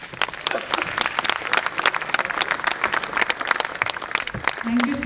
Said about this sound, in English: Give a very big round of applause again